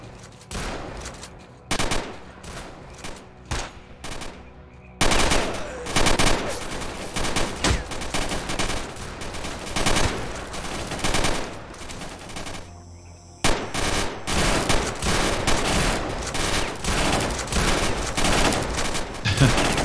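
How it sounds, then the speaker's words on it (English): Rapid bursts of gunfire from the shooter game S.T.A.L.K.E.R.: Call of Pripyat with the Remake 2.0 mod, loud and dense volleys of automatic fire with brief gaps, sustained through most of the stretch. "See them shooting through the floor."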